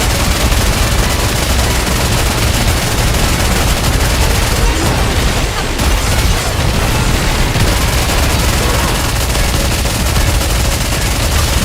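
Dense, sustained gunfire and booms from guns in the Nikke video game, a continuous loud barrage of rapid shots and blasts filling the whole stretch with no voices over it.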